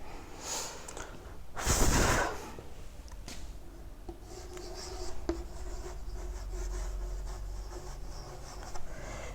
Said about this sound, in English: So just you write down for better understanding